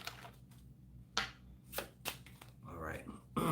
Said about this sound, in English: One more shuffle, Veronica